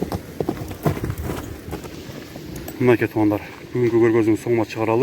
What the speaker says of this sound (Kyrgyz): Азыр атты бир сыйра чабып көрөлү дагы.